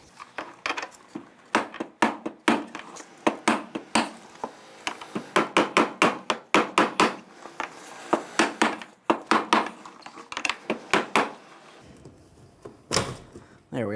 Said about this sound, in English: very carefully use a brass punch and a rubber mallet. I'm going to try to tap this counterclockwise